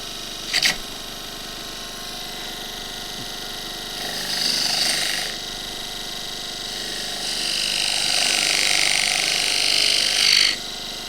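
A gouge cuts spruce on a lathe while a tall goblet is turned, giving a hissing, scraping whoosh that swells in two long passes, with a sharp tap near the start and a steady motor hum beneath.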